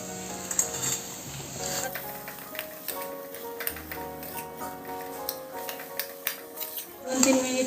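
Spoon clatters and scrapes against a pan while a Kolhapuri misal mixture with potatoes is sautéed, irregular metallic taps over a soft sizzle, with background music-like tones throughout.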